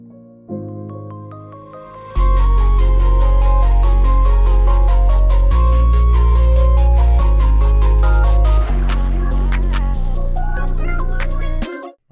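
A reversed reverb tail sample built in FL Studio swells up into a loud, dense sustained tone with stepped harmonic chords, holding steady for about ten seconds before cutting off abruptly.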